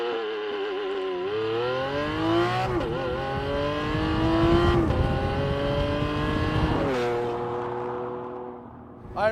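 A Lamborghini Aventador launches hard and accelerates through several gears. Each loud, rising engine howl is cut by a sharp upshift, three or four in a row, heard close up and without any talk.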